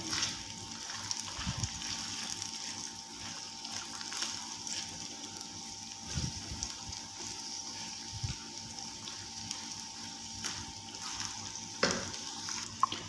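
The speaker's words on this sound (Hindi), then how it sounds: "प्याज हमारा हल्का सा फ्राई हो गया है" Three medium onions frying lightly in oil with ginger-garlic for bhindi masala, a soft, quiet sizzle with occasional stirring clinks and scrapes throughout, no talk.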